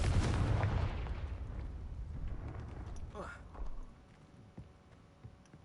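A loud blasting explosion effect from the Confringo spell in a Harry Potter game erupts at the start with heavy low rumble, then fades into a short crackling tail and quieter debris-like thuds.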